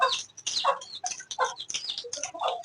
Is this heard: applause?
no